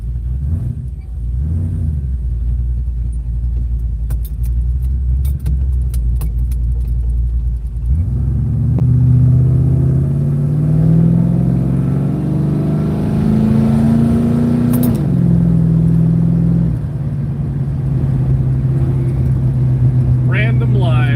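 A Plymouth Barracuda engine rumbles steadily up close, with its pitch climbing as it revs and then dropping back to a lower running drone, all under near-constant talk.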